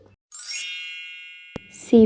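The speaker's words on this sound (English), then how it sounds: "B for bell. B for bell." A single bright bell ding rings out clearly and decays for over a second, followed by a short tap and then a voice speaking.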